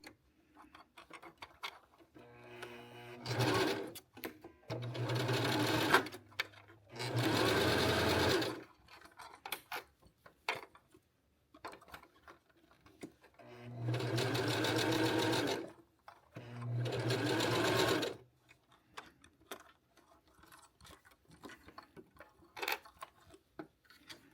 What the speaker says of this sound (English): we're going to go to the sewing machine and sew straight across